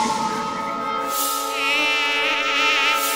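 A cartoon mosquito buzzes in a loud, continuous high-pitched whine that wavers slightly in pitch as it hovers close, heard alone without speech.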